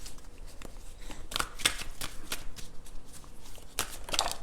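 Tarot cards shuffled by hand and drawn from the deck, a run of quick riffling flicks and soft slaps up close at moderate volume, with no talking over them.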